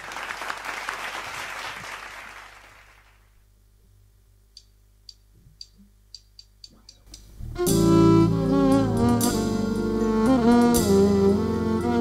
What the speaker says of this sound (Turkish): Alkışlar.